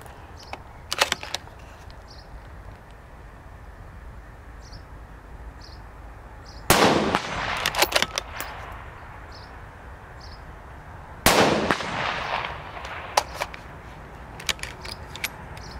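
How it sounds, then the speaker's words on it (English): The bolt of a CZ 600 Trail rifle is worked by hand, giving two sharp metallic clack-and-slide bursts several seconds apart, close and crisp over a quiet background, with a few smaller clicks in between. "I just operate that bolt, you can actually feel that spring just in that bit of the movement there"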